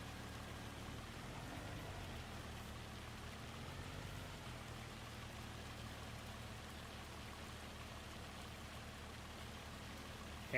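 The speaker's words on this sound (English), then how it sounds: "right now I am in the middle of a hailstorm" A hailstorm pelts the ground in Farming Simulator 25, a dense steady patter of falling ice and rain washing evenly throughout, fairly soft and with no voices.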